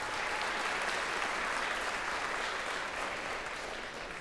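Applause from the audience at a county jazz band concert honors a trumpet player. It is a dense, continuous wash of clapping that holds steady from start to finish.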